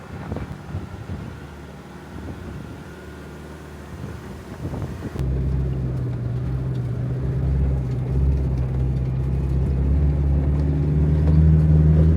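A modified six-ton Iveco Daily 4x4 overland truck drives along with a steady low engine drone and wind rumble that grows louder after a sudden cut partway through.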